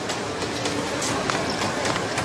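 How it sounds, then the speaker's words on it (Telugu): A train pulling in, heard as a steady, dense rumble with faint rhythmic clatter and hiss, continuous and fairly loud throughout, with no clear speech. "ట్రైన్ వచ్చినట్టుంది"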